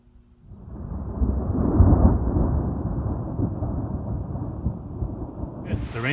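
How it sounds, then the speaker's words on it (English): Heavy rain pours with a rolling rumble of thunder, a dense, loud wash of sound that swells after a brief quiet start and then holds steady. "It's pouring rain right now."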